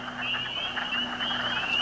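Spring peeper frogs call on Sleeping Giant Mountain, a dense chorus of high, piping peeps overlapping in rapid repetition over a faint low hum, heard alone at moderate distance.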